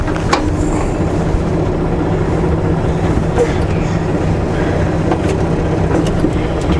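A diesel truck pulling away from a fuel station, its low engine rumble steady and close, with scattered clatter on top and talk in the cab.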